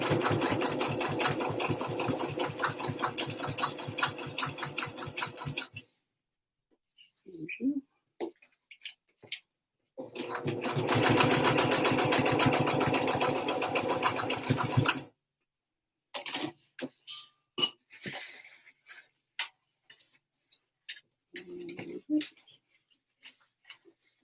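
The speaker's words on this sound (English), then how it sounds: "just keep sewing" A sewing machine stitches a fabric wristlet in two long, loud runs of rapid, steady mechanical whirring, split by quiet stretches filled with small clicks and handling noises from the fabric and machine.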